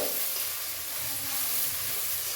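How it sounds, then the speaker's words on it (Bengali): Sliced onion fries in hot oil as a spatula stirs it, a dense continuous sizzle with soft scraping turns, close and loud with no talking. "পেঁয়াজটাকে আমি খুন্তি দিয়ে ভালো করে নাড়াচাড়া করে"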